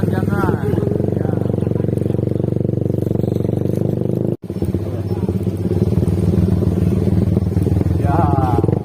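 A motorcycle climbs a steep uphill road, its engine droning steadily and loudly close by for most of the ride, dropping out for a moment midway before resuming, with someone talking over it throughout.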